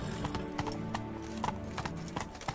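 Horse hooves clip-clop at a steady gallop in The Witcher 3: Wild Hunt, a close, rhythmic beat of repeated hoof strikes with a brief neigh, no voices.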